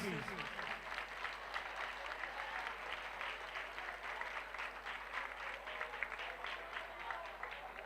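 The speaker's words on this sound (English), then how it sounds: "May I have a big round of applause for Varia sir, please?" Audience at an award ceremony applauds steadily for the full stretch, a dense, continuous clapping from a large crowd, close and loud, with no break.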